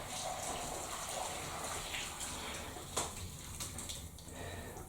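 A litre of stock pours into a pan of vegetables softened in oil, producing a steady, quiet liquid gush and trickle throughout, with no talking over it.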